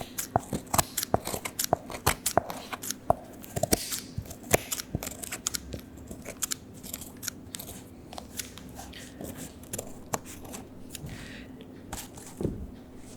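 Scissors cutting satin from the tips of ballet pointe shoes, close and crisp: a rapid run of sharp snips at first, then sparser cuts and rustling handling noises, quiet overall with no talk.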